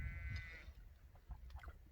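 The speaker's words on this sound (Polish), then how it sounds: "Słyszycie tam przyszła jagnięcina beczy muczy" A sheep gives one clear bleat near the start, followed by fainter scattered calls and outdoor rustle, all fairly distant and quiet.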